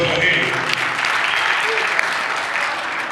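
Steady audience applause at a political roundtable on Nigeria's 2023 elections with parties and civil society groups, an even wash of clapping with a few sharper claps and voices faintly underneath.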